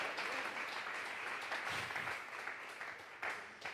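A church congregation at a Sunday morning service claps together as an offering of praise to God, a steady wash of applause that swells and fades with no voices over it.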